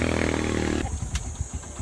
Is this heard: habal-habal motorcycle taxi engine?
yes